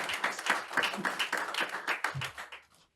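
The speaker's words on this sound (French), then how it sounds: "je vous propose de l'applaudir à nouveau parce que son intervention est très intéressante" Audience applause at a robotics industry conference, a dense burst of many hands clapping that holds steady, then fades out over about three seconds.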